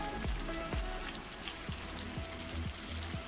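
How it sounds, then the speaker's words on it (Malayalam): Garam masala frying in a pan for Kerala-style country chicken curry, a continuous close hiss with a few sharp spoon taps against the pan at intervals, no talking. "അപ്പോൾ നമുക്ക് മസാല ചേർത്ത് കൊടുക്കാം."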